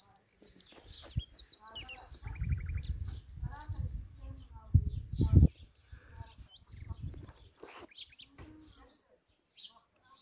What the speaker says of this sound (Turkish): doğayı ve kuş seslerini dinleyin dostlar